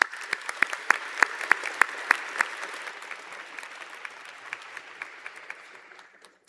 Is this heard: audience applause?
yes